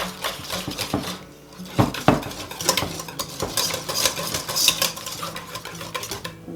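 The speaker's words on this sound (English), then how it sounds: "I'm going to whisk these together until they're nice and smooth." Whisk beating a sour cream mixture in a bowl, rapid uneven clinks and scrapes of metal against the dish, close and fairly loud, with no one speaking.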